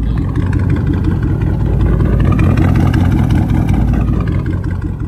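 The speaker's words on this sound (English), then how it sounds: "Straight pipes always sound good in idle when you get on it" A lifted OBS Chevy truck on a 14-inch lift, with its stock engine, built transmission and straight pipes, idles close by in a loud, steady, deep rumble that holds without a break.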